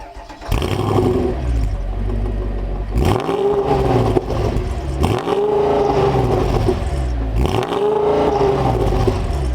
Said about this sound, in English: This one has a quad setup with these very cool oval shaped exhaust pipes.